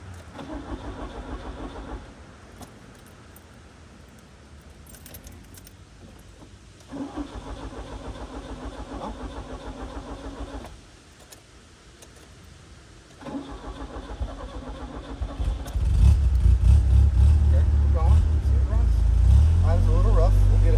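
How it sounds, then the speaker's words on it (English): A 1977 Fiat 124 Spider engine cranks in short bursts, then catches and settles into a rough, uneven idle, growing louder and closer toward the end while someone talks over it. "It's idling a little rough."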